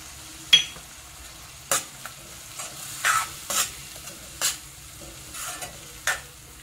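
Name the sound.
cashew paste added to pan, stirred and sizzling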